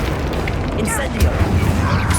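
Incendio fire spell cast in Hogwarts Legacy, a loud, roaring whoosh with crackling bursts and low booms, continuous and full-bodied throughout the short moment.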